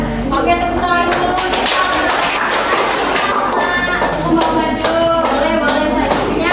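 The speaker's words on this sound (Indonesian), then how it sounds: "Oke, tepuk tangan dulu." A class of schoolchildren claps together in a lively burst of hand claps, continuous and fairly loud across the room, with voices mixed in.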